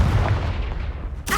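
Confringo fire spell blasting in Hogwarts Legacy, a loud booming burst at the start that rumbles and fades, then a sharp crackling hit near the end.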